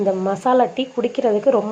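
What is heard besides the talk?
No distinct noise like a dog, phone or traffic.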